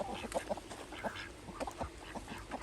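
Several small call ducks quack in short, scattered bursts at moderate distance outdoors among backyard poultry, with some other birds mixed in.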